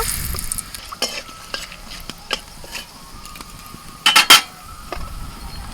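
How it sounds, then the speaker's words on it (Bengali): Bay leaves, dried red chillies, cardamom, cinnamon and cloves sizzle in hot white cooking oil as a tempering, a soft steady fry with scattered sharp crackles and a couple of louder popping bursts near the end. "রান্নাটা আমি সাদা তেলই করছি ফোড়নে দিচ্ছি তেজপাতা দুটো শুকনো লঙ্কা এলাচ দারচিনি লবঙ্গ"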